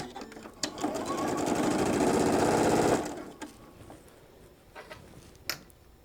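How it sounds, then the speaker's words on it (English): A sewing machine stitches the side seams of a fabric shoulder bag in one steady, fairly close run of about two seconds, then stops; a few soft handling clicks and taps follow in the quiet afterward. "Now we're going to sew our sides."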